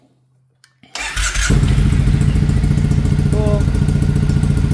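A carbureted Triumph Thruxton 900 motorcycle with a programmable CDI ignition cranks briefly and fires up near the microphone, then settles into a loud, steady, throbbing idle while a voice speaks briefly.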